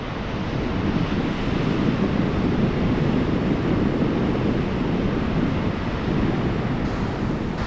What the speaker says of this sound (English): This is a phenomenon known as a tidal bore.